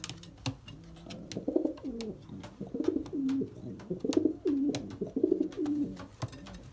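Soft, repeated cooing from Belgian racing pigeons in low rolling phrases, fairly close, with occasional sharp clicks and taps scattered throughout.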